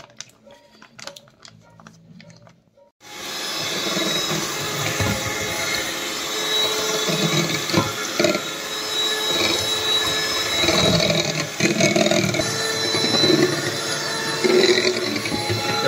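An electric mixer whirs steadily as it blends butter, oil and sugar for a vanilla sponge cake, starting abruptly after a few seconds of quiet clicks and running continuously with fluctuating grinding tones.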